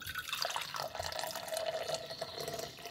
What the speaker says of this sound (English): Now I can pour out the coffee with no issues.